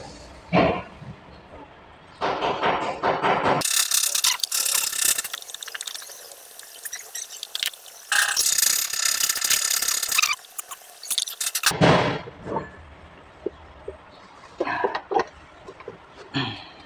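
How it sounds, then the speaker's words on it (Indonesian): Ratchet wrench tightening the mounting bolts on a starter motor during assembly, long loud bursts of rapid clicking ratcheting with brief pauses and quieter handling noises between them. "Baru ini kalian kencengin baut 8-nya"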